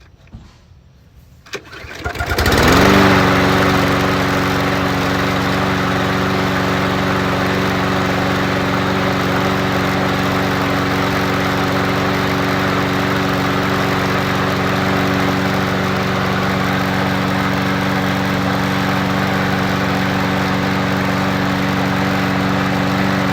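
Kubota tractor engine with a Lane Shark attachment cranks over after a brief rustle, then settles into a loud, steady idle that runs close and unbroken for the remainder, no talk over it.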